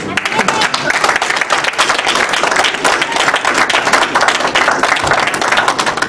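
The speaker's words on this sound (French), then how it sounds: "Mais acclamez un peu." Sustained applause and clapping from an assembly congregation fill the space, dense and loud throughout, with voices mixed in beneath the clapping.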